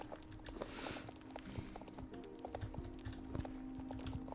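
Soft, rhythmic hoofbeats of a horse ridden through woodland in the game Star Stable Online, faint and steady over a low ambient drone.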